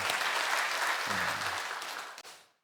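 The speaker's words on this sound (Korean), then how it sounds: "우리에게 은혜를 주시고 은혜를 주실 우리 하나님께 뜨거운 박수로 감사하겠습니다." A church congregation at a Sunday morning worship service claps after the Hosanna choir finishes: loud, dense, sustained applause that fades out near the end.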